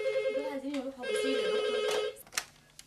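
A telephone rings with a steady electronic tone in a busy office setting, lasting about two seconds, close and clear, followed by a few clicks and knocks.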